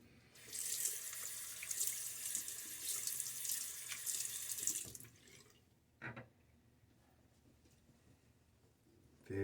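Water runs from a bathroom tap into a sink for about five seconds while rinsing after a wet shave with a Fatip Piccolo razor, followed by a brief splash and quiet drips, with no talking.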